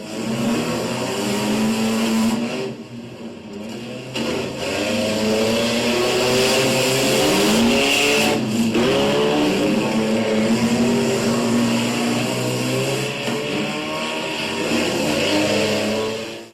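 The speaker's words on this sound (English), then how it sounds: "The junk car races, for example, seem to get more popular each year." Junk cars racing around a county fair dirt track, engines roaring loud and continuous with rising and falling revs as several cars pass, a steady motor drone throughout.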